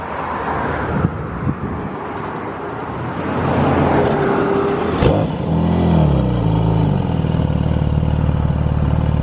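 An Audi RS7 with freshly installed downpipes revs up loudly from idle, a rising and falling engine drone that swells midway and holds steady, close by, with brief shop chatter beforehand.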